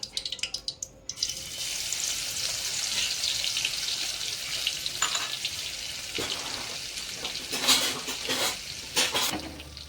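Garlic and coriander paste dropped into hot oil sizzles and crackles steadily in a home kitchen, with a spoon clattering against the pan at the start and stirring scrapes throughout.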